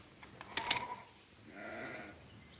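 Sheep bleat in an old 1959 Western television episode, with one short wavering bleat near the start and a fainter, drawn-out bleat following, set against quiet background noise.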